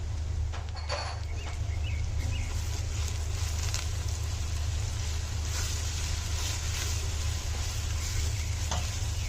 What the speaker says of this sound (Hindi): अब लहसुन अदरक के पेस्ट को भी इसमें 2 से 3 मिनट तक कुक होने देना है।